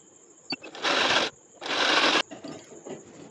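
A sewing machine stitches a blouse in two short, loud, close bursts of whirring, separated by a pause, with light handling clicks before and after.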